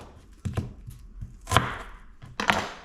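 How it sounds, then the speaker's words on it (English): A knife chops through an onion on a board, several irregular thunks close by, with a few lighter taps between two louder cuts, no voices. "Let's chop the onion."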